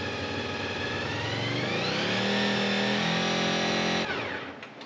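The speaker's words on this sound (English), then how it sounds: "Rev it up to 5 and hold it." Honda VFR motorcycle engine revved up and held at steady high revs, a loud close drone that climbs in pitch, holds, then drops away as the throttle is released.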